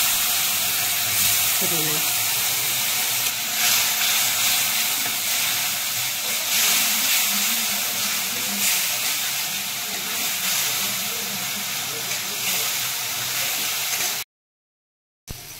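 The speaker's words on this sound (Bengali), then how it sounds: "আমি একটু জল দিয়ে মশলাটাকে কষে নিচ্ছি" Spice masala with cumin powder, turmeric and salt sizzles and steams loudly in a pan after water goes in, a hissing roar with faint scraping that stops abruptly near the end.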